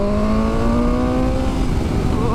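BMW M1000R naked motorcycle engine accelerating hard, a loud, close, rising whine that climbs steadily in pitch over a couple of seconds, then eases off.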